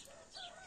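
A broody hen among newly hatched chicks and ducklings gives a short, soft cluck, faint and close, with a brief sharper note right at the end.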